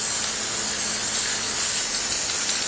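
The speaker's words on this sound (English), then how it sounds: "Now we're going to spray some clear paint up in here on the left and right" Clear paint sprayed from a spray bottle onto a small nature painting, a steady broadband hiss of mist lasting the whole moment, close and fairly loud with no talking.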